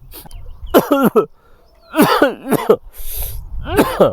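Several harsh coughs in quick bursts, close by, with a throat-clearing rasp between them and short pauses of quiet.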